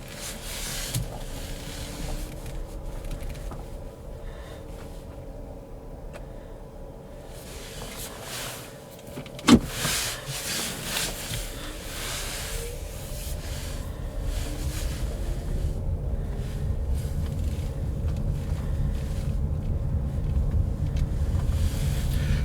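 A car slowly reverses out of a residential driveway onto a street, its low engine rumble steady under wind noise and outdoor ambience, with a sharp knock near the middle.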